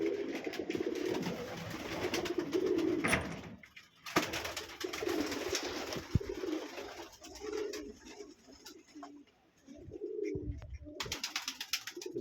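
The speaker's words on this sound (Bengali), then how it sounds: "মাত্র কবুতরগুলোর খাবার দিলাম" A flock of pigeons in a loft, freshly fed, keeps up a steady low cooing close by, with brief lulls between bursts of overlapping calls.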